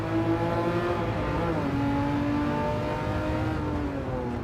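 An air-cooled Porsche M64 flat-six in Gran Turismo 7 revs loud and close, its engine note holding steady and then sliding through gear-like pitch shifts with a raspy mechanical edge, and no one talks.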